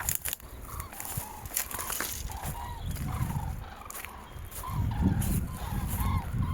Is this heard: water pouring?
no